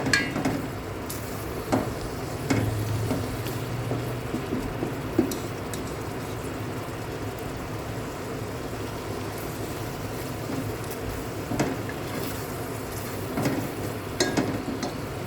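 Pork stir-frying in a pan of coconut-milk red curry paste for a spicy winter-melon curry, with a steady low sizzle and occasional scrape and clink of a spatula against the pot, close and continuous with no talk.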